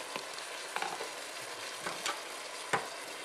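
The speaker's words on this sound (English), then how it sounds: "the meat is browning, we're going to go ahead and add our garlic, our tomatillo, some of our spices" Meat browns in a pan with garlic, tomatillo and spices, giving a soft, steady sizzle broken by a few faint scraping stirs, and no voices.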